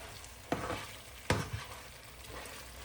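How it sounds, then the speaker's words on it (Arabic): Food fries in a little oil in a pan with a soft, steady sizzle, broken by two sharp scraping stirs close by. "هيك خليه ينقلى كتير منيح"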